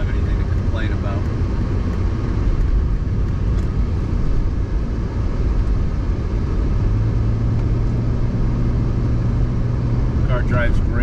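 A 1993 Mercedes-Benz 300CE coupe of the 124 series drives on a cold, dry New Jersey day, its loud steady engine and road rumble filling the whole stretch, with a low drone joining later.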